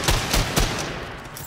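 Rapid bursts of gunfire in the video game Wolfenstein II: The New Colossus, three loud sharp shots in quick succession followed by a fading reverberant tail.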